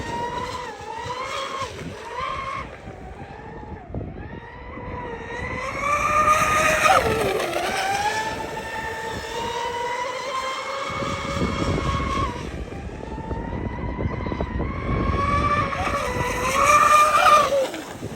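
The MTC Decepticon truck's engine pulls hard at speed, a loud steady roar rising and falling in pitch through gear changes, close and continuous with no talking.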